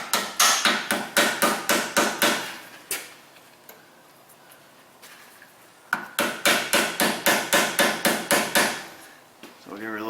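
Hammer taps on a Subaru ball joint during a suspension repair, two bursts of rapid, evenly spaced metallic blows, about ten strikes each, separated by a quieter pause, close and loud with no talking.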